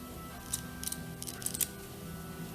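Scissors cut a circle out of quilting fabric nearby, a few short crisp snips in a quick cluster over a quiet room hum.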